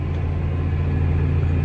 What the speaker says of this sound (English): Just driving the tractor up here.